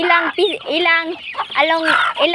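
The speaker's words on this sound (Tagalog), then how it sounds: "Rhode Island Red Chicken. Ito guys is yung manok namin." Rhode Island Red chickens clucking and squawking close by in a repeated run of calls, with a voice talking among them.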